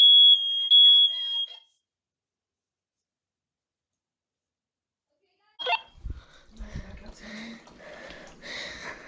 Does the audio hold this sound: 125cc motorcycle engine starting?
no